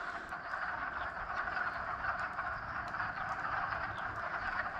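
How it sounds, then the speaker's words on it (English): Frogs croak outdoors in the Maine woods as a faint, continuous distant chorus with a steady trilling texture and no talking. "those might not even be ducks, those might be frogs."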